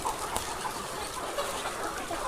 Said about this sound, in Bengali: দেখতে পাচ্ছেন মোরগ জায়গায় জায়গায় আসছে।